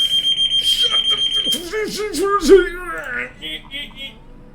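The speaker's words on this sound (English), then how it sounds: "Of all the days they could test a fire alarm." A building fire alarm sounds during a test with rapid, evenly pulsed loud beeping, then gives way to a person making drawn-out, wavering vocal sounds and fainter intermittent tones.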